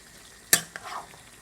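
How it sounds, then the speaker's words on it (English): Tomatoes being stirred in a frying pan, one sharp scrape and clink of a utensil against the pan followed by a softer second knock and a brief sizzle, close and quick with no voices. "Give that a good stir"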